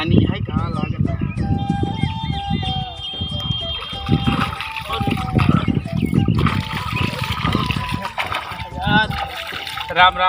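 Water splashing as people bathe in a cold river, with continuous talking throughout and occasional birdsong above the steady sloshing.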